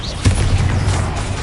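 An Incendio fire spell bursts in Hogwarts Legacy, a sharp whooshing onset followed by a sustained, loud roaring rumble of flame.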